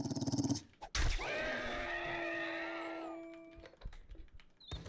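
In the video game 7 Days to Die, a dog lets out a drawn-out growl that shades into a whine, following a few short bursts of game noise, with quieter clicks after it.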